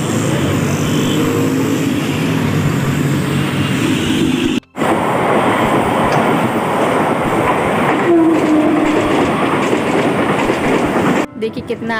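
Moving train passing by near a hillside market road, a loud continuous rumble and clickety-clack of rolling wagons that stays steady throughout.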